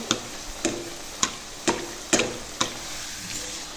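Asmi batter dropped into hot oil for a Sinhala New Year sweet, giving a series of about seven sharp crackling bursts at roughly half-second intervals over a faint steady sizzle, close and fairly quiet with no talking.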